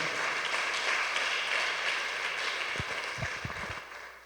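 Congregation applauding in church, broad crowd clapping that holds steady and then thins out, with a few low thumps near the end.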